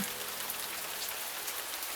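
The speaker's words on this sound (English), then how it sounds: "You know, I really enjoy the rain. It's quiet, comforting, and makes me feel like I'm the only one in the world." Rain falling in a steady, even hiss of drops with no pauses, fairly soft and close, and no voices.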